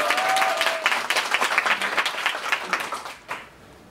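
Studio talk-show audience applauds a singer after his musical-style performance of a song: lively, dense clapping that gradually thins and fades out near the end, with a few stray claps.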